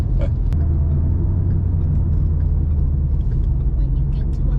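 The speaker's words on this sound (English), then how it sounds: "we got the mufflers put on" A 2011 Mustang GT fitted with Borla Pro XS mufflers, a deep, continuous exhaust rumble heard steadily up close from inside the car.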